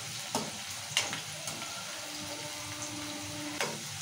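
Ivy gourd (tindora) fries in hot oil with a soft, steady sizzle while a spoon stirs the pan, giving a few sharp scraping clinks against the vessel.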